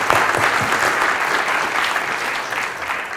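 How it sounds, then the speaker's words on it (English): Audience applause at an outdoor Christmas tree lighting ceremony, a steady, dense wash of clapping from a crowd that holds strong for the full few seconds without speech. "Give everyone a round of applause."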